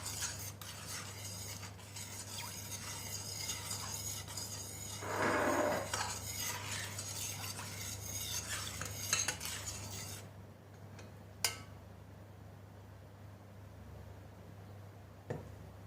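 A mixture of oil and beeswax for homemade polish being stirred in a container, with soft scraping and light clinks of a utensil that stop partway through, followed by a couple of faint knocks.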